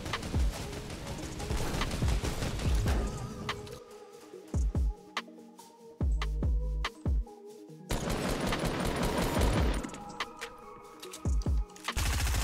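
Gunfire in Fortnite crackles in rapid bursts of shots against dense game sound. It drops out into brief quiet gaps, then the firing resumes, moderately loud throughout.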